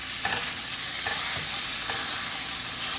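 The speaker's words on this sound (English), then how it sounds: "melt in about a teaspoon of butter on a pan, and then add in your meat" Minced meat frying in butter in a pan over medium heat, a loud continuous sizzle with soft scraping strokes of stirring repeating every second or so, close up.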